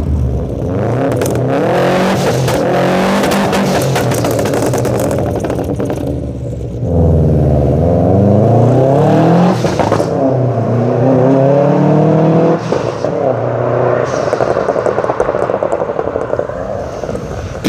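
A car fitted with a new stage 3 engine revs hard close by, its note climbing and dropping in repeated surges with crackling bursts between, loud and steady for the whole stretch with no voices.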